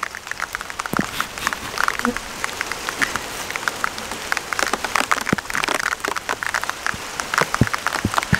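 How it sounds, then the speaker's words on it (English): Rain falls steadily on nearby surfaces, a dense patter of drops with scattered sharper taps throughout, heard close and continuous with no talking. "Oh, here comes the rain."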